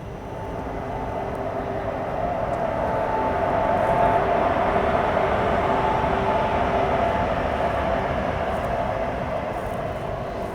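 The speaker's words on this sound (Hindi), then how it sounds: "यहाँ पर आप लोग अपना लोकोमोटिव देख सकते हैं, रिवर्सल डायरेक्शन में जा रहा है अपना वैफ 4" A WAP-4 electric locomotive rolls in reverse at a junction, giving a steady, loud rumble with a sustained hum that builds slightly and holds, no talk over it.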